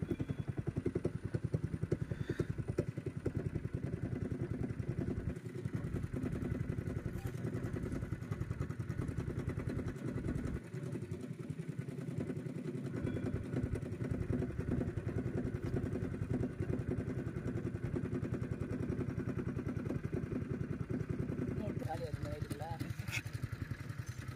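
A motorboat engine drones steadily and loudly through the whole stretch as the boat swings round in a wide U-turn, with voices talking over the engine noise.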